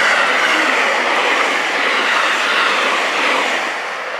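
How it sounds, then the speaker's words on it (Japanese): A loud, continuous rushing roar of a train passing close by through Heiwa Station platform 2 in Sapporo, with faint clattering wheels, easing slightly at the end. "2番線を列車が通過いたします。"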